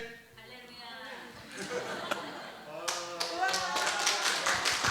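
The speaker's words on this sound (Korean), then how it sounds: "우와, 박수" A church congregation during an autumn revival service breaks into clapping amid cheering and chatter, building from a few scattered claps into louder, denser applause with voices mixed in.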